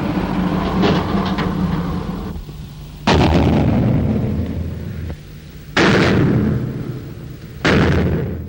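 Heavy depth-charge explosions heard from inside a submarine boom one after another, each a sudden loud blast with a long rumbling tail, three or four in a row.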